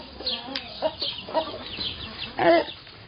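Domestic laying hens on a farm cluck in short, scattered bursts, several calls overlapping at a modest distance and fairly soft, with one louder cluster near the end.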